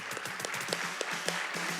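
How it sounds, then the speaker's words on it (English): An audience at a high school female athlete awards ceremony claps for a winner, a brisk, dense burst of applause with distinct individual claps popping out, heard fairly close. "let's give Simone a big round of applause"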